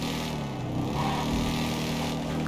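A Harley-Davidson motorcycle engine in GTA 5 idles with a steady, low, throbbing rumble that holds an even level throughout, with no voices over it.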